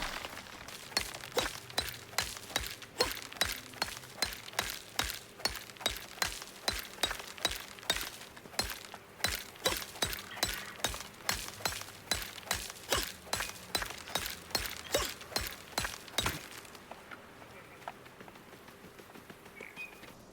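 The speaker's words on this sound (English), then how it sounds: "we'll get into our pickaxe and back to smashing rocks and ores" A pickaxe smashing rocks and ores in the video game Icarus, a long run of sharp, evenly spaced clinking strikes at a steady fast rhythm that stops near the end, with no talking.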